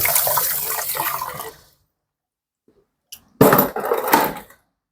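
A stone mortar's pestle is rinsed under a running tap while preparing pounded peanuts: a steady splash of water for under two seconds, a pause of silence, then a second louder burst of running water.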